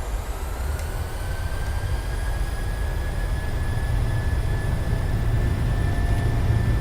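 Boeing 737-600 engines in a flight simulator spool up to takeoff thrust. A deep, loud, building rumble carries a thin whine that slowly rises in pitch, with no voices.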